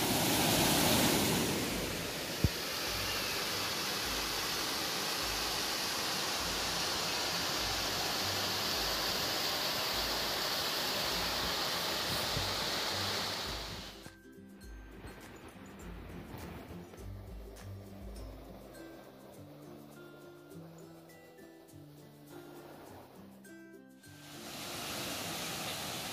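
Foaming floodwater rushing hard down a stream in Kankavli, Sindhudurg after heavy monsoon rain, a loud dense roar that suddenly drops to a quieter, more distant flow before swelling again.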